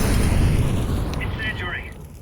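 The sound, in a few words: grenade thrown and exploding in the video game Counter-Strike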